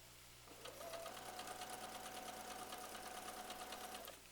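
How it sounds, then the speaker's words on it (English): Quilt pieces feed through a sewing machine in one steady run of stitching lasting a few seconds, a close, even mechanical whir that starts and stops cleanly over a low room hum. "We're just going to keep sewing."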